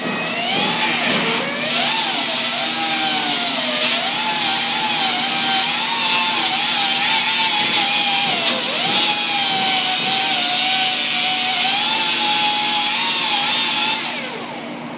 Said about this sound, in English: I'm gonna turn the fan on here and start the sanding down